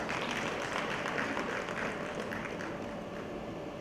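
Sustained applause from a seated audience at a panel session at an expo, a dense even patter of many hands that stays loud throughout and tapers only slightly at the end.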